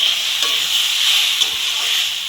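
Vegetables sizzling steadily in a hot pan, a close continuous frying hiss with occasional soft scrapes of stirring, no voices.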